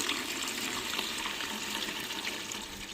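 Steady rushing water poured into a cooking pan holding tomato masala with chilli powder, continuous and fairly close for the whole stretch, with no speech over it.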